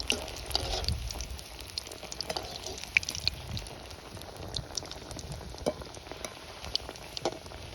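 Millet flour and fenugreek vada fry in hot ghee, a steady bubbling sizzle with scattered crackles and pops throughout, moderately close and with no talking.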